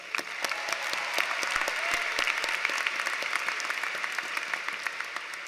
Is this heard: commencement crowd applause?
yes